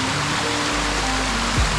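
A powerful hidden waterfall near Bhal village, roaring as a dense, steady rush of falling water from about 100 feet up, loud and continuous with a low hum under it.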